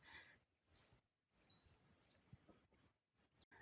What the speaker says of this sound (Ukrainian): якась пташка так розчебеталася тут коло хати у нас